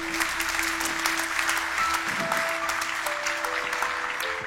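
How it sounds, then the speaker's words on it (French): Audience applause at a French-language Christian worship gathering, steady dense clapping holding at an even level throughout, with a faint sustained musical tone underneath. "applaudir c'est bien, mais vous applaudissez les autres"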